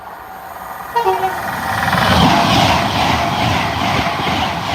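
An Avanti passenger train at Acton Bridge sounds a short two-tone horn, then roars past close by with a loud, sustained rush of wheels and wind.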